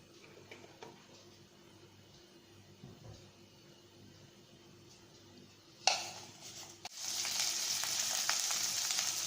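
Oil in a pan on a stove, for a brinjal and okra curry, stays quiet at first, then a sudden burst gives way to a loud, steady sizzling hiss over the final few seconds.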